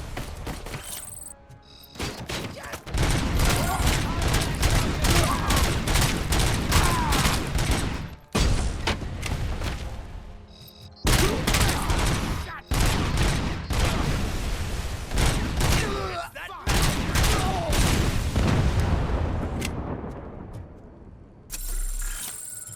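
Sustained heavy gunfire from the RoboCop video game, dense and loud with rapid continuous bursts and a few abrupt breaks, game audio alone with no talking.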